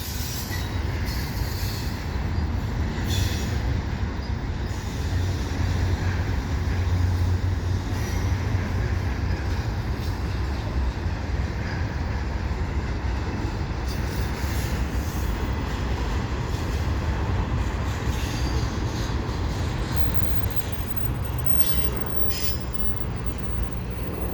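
A CP eastbound intermodal freight train led by a freshly rebuilt AC4400CWM locomotive rolls past at Dorval Ramps, a loud continuous rumble of wheels on rail with intermittent squeals and clicks throughout.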